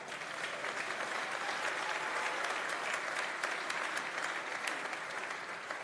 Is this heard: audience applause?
yes